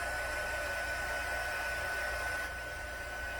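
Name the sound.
heat gun drying ink on card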